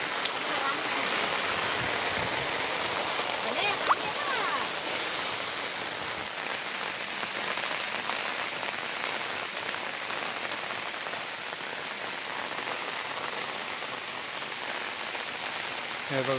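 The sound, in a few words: heavy rain falling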